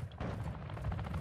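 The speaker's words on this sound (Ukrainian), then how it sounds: "Десь там стріляють" Bursts of gunfire in Call of Duty Warzone 2.0 DMZ, with dense, continuous firing at mid distance and loud low-end thumps throughout the short stretch.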